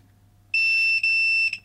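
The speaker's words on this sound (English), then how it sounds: "so the light comes on here and it also makes that beeping noise" A steady high-pitched electronic beep from a Fluke T130 continuity tester sounds for about a second, with a brief dropout near the end, alone against a quiet low hum.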